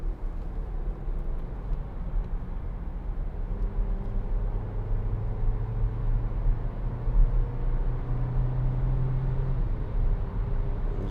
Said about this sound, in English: We'll just give it a bit of gas behind this Peugeot.